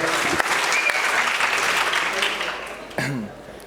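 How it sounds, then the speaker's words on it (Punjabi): An audience at a stage talk show breaks into a dense burst of applause that keeps going, then tails off, with a voice cutting in near the end. "ਇਹਨਾਂ ਵਾਸਤੇ ਇੱਕ ਵਾਰੀ ਤਾੜੀਆਂ ਮਾਰੋ"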